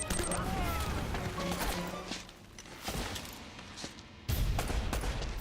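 Gunfire from the Uncharted: Drake's Fortune video game pops in scattered shots and bursts over a busy in-game soundscape, ending in a loud crashing impact, with some talk mixed in.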